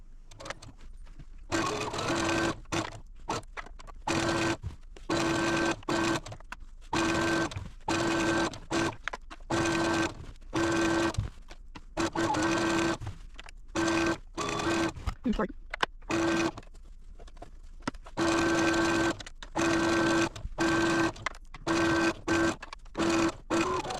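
Sewing machine stitching a quilt border, running in short on-off bursts with a steady whirring hum, each burst lasting a second or two between brief pauses, close and clear throughout.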